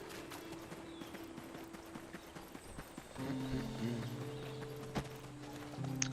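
Hooves of a video-game horse clip-clop in a steady rhythm under game music and ambient tones, the music growing louder partway through.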